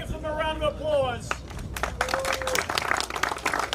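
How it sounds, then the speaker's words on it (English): Applause and crowd noise for the winners at a Porsche Cayman sprint race at Sebring, rising after an announcer's amplified voice and continuing as dense, uneven clapping with background chatter. "Let's give them a round of applause."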